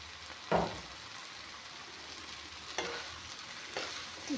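Potatoes fry in a pan with a steady low sizzle that runs throughout, and a few distinct scrape-and-stir bursts of the spatula land near the start, the middle and the end.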